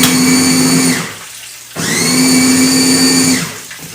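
Electric blender briefly mixing okra for an African fish dish, a loud close whirring motor in two bursts with a short pause between, alone without speech.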